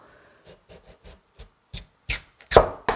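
A knife chops kohlrabi into small one-centimetre cubes for vegan kkakdugi, about ten crisp strikes on a cutting board in an uneven rhythm, getting louder toward the end, with no talking.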